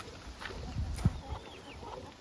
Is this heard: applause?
no